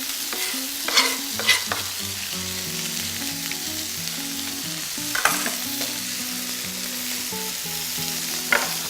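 Garlic hits a hot pan beside seared chicken for chicken cacciatore, setting off a steady, close frying sizzle broken by a few sharp stirring clatters, with steady tonal music playing underneath and no talking.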